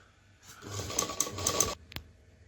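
Sewing machine running a straight seam on saree-style gown lining fabric, a fast steady buzzing stitch that starts, runs for about a second and stops, followed by a single faint click, close and alone with no talk.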